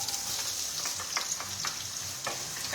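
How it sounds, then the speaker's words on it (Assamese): Chopped onions fry in hot oil in a kadai, a continuous crackling sizzle with occasional soft scrapes of a stirring spoon, close and even throughout with no talking. "পিঁয়াজখিনি দি দিলোঁ পিঁয়াজখিনি এতিয়া মই অকণ সময় ভাজি ল'ম"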